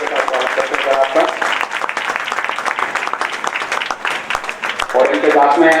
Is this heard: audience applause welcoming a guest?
yes